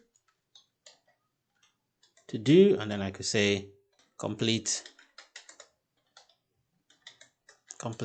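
Scattered light key taps on a computer keyboard, with a person speaking briefly in the middle.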